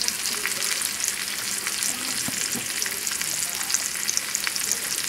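Cajun Creole chicken tenders frying in a skillet over a moderate flame, a loud, steady hiss of hot oil that runs unbroken throughout, with a few faint spatters and no voices.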